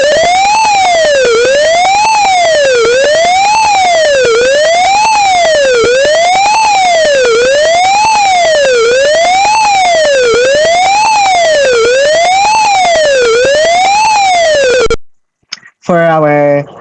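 A shrill electronic fire truck siren from a piezo buzzer on an Arduino Uno wails up and down in a steady rising-and-falling sweep, loud and close, repeating for about fifteen seconds before cutting off abruptly.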